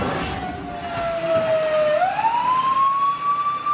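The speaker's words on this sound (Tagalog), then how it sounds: "Umalingaw-ngaw ang sirena ng bumbero sa Barangay Batasan Hills, Quezon City kagabi" A fire truck siren wails on a city street in Batasan Hills, Quezon City, at night. Its tone slides down and then climbs back up, loud over a steady rumble of traffic.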